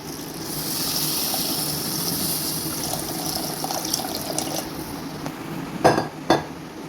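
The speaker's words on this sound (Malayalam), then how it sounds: "ഇനി നമുക്കിതിലേക്ക് ആവശ്യത്തിന് വെള്ളം ഒഴിച്ചു കൊടുക്കും" Water pours steadily into a pan of egg curry with a rushing splash, tapering off, followed by a couple of sharp metallic clinks.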